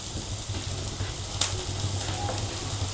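Capsicum tossed into frying onions for kadhai chicken gives a soft steady sizzle with a brief clatter as it goes in, close and low in volume with no talking.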